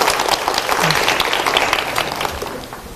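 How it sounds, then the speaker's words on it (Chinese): Warm audience applause at a Buddhist lecture hall, dense continuous clapping from a large crowd, fairly close and sustained throughout. "现在让我们热烈的掌声恭喜妙光法师。"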